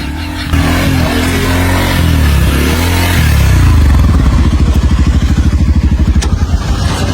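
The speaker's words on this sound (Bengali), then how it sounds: "বাইক চলে গেল এই ফোনের উপর দিয়ে" A motorcycle idles and then pulls away over a phone placed on the road, its engine loud and close with a steady, rapidly pulsing throb as it rolls past.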